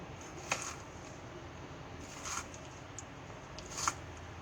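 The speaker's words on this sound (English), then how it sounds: "stack them up, take your knife, and you're going to cut them through their layers" Knife cutting through a stack of three tomatoes on a board, three quiet separate crisp slicing strokes spaced over a few seconds against a soft background.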